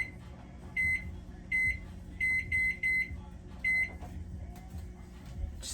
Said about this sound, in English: Just turning on the timer.